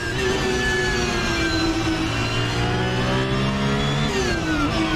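Porsche 992 GT3 Cup race car on the old Zandvoort circuit, engine note climbing steadily under acceleration then dipping at a gear change before rising again, loud and close with no talk.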